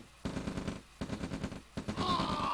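Rapid rifle and machine-gun bursts from riflemen in a real-time strategy game, three dense volleys in quick succession with brief gaps, loud and close, followed by a sustained higher crackle.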